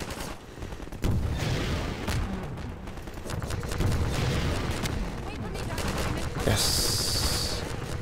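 Gunfire in the video game Half-Life 2, with bursts of rapid shots and heavy booms cracking out repeatedly over several seconds while a player talks over the action.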